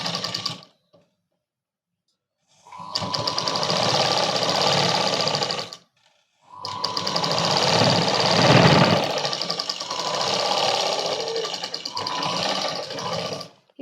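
Sewing machine stitching a Punjabi dress, running in two long continuous bursts with a short pause between, close and fairly loud with no talking.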